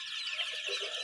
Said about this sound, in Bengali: টাইগার মুরগির 1 মাস বয়সী বাচ্চা